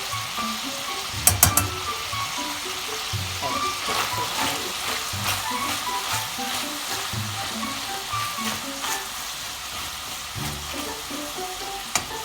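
Peppers, tomato and tomato paste sizzle and fry with meat in a pan, a steady crackling broken by scraping stirs and a few sharp clinks of a spoon against the pan.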